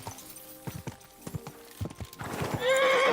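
A horse in the video game Kingdom Come: Deliverance 2 clip-clops along in a steady hoof rhythm, then lets out a loud, rising whinny at the end.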